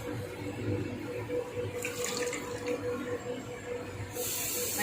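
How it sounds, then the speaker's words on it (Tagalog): Water runs steadily from a tap into a cooking pot to make sinaing, a Filipino dish of fish simmered with dried kalamias, a continuous hissing splash with a brief stronger spray partway through. "Madaming tubig."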